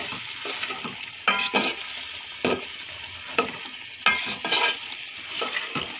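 Diced potatoes sizzle in oil in a pan for biryani while a spatula stirs them, scraping strokes coming in irregular bursts over a steady frying hiss, close and moderately loud.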